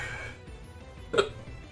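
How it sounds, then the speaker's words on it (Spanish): A person playing a Pokémon game hiccups once, a single short, sharp gulp of the throat near the close mic. It comes midway through a quiet stretch with a faint room background. "Uy, tengo hipo."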